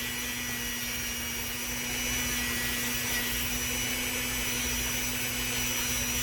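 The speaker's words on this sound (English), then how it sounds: "I do that with my Dremel and my orange wheel." Dremel rotary tool with an orange wheel trimming the edges of a polymer clay pendant, a continuous high whirring buzz with a steady motor hum, running close and unbroken for several seconds.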